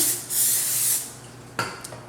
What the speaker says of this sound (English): And then go ahead and spray the pan.